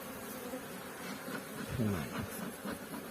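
A steady, dense buzz of many restless honeybees inside a hive during a spring inspection, heard up close with a low droning hum and no voices.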